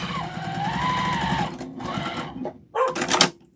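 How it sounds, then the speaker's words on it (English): A sewing machine stitches a quarter-inch seam around a fabric mug rug made from scraps, running in steady loud bursts with short pauses, close up. "we're just going to stitch all the way around"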